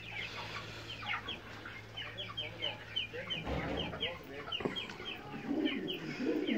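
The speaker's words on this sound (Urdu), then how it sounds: "بنا مرغیاں ایک سائڈ رکھی ہوئی" A flock of chickens clucks and chatters continuously nearby, with a voice speaking briefly in the background.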